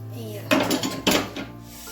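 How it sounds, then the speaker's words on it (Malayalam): A lid set onto a cooking pot of fish-head curry gives two sharp, close metallic clanks about half a second apart, followed by a light rattle. "നമ്മളിത് മൂടി വെക്കുകയാണ്, തിളക്കട്ടെ."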